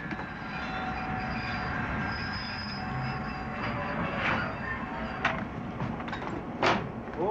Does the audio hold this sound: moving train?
yes